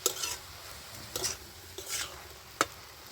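Red amaranth greens stirred in a pan with salt and turmeric, giving a few separate scraping and clinking strokes against the metal over a faint background, no voices.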